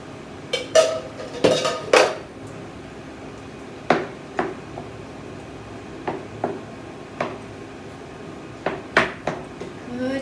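Whole tinned tomatoes being smashed in a pan for a red cauliflower curry, heard as a series of sharp metallic clanks and knocks of utensil against pan, spaced irregularly and close by.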